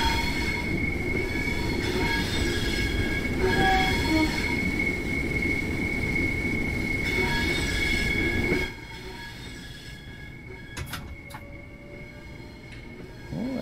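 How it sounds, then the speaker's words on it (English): Metal wheel flanges squeal continuously as a train rounds a tight curve on approach to Stroud station in a train simulator game, with loud rolling rumble that drops to a quieter hum partway through. "Lots of wheel flange. It is an tight curve."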